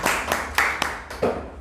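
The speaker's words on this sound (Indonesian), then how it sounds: "Boleh tepuk tangan semuanya?" A small audience in a studio talk show claps for a lecturer being introduced, a few sparse, distinct hand claps spread over about a second and a half, close and fairly loud, no talking.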